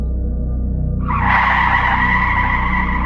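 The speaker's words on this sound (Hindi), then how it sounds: "अचानक से एक ख़तरनाक मोड़ पे जीना ने तेज़ी से गाड़ी मोड़ी" A car skids hard as it swerves sharply through a dangerous turn, a loud tire squeal rising suddenly after a second of low engine rumble and holding steady to the end.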